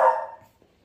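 A pet dog, unwell, gives a single loud bark close by that fades out over about half a second, with no other sound.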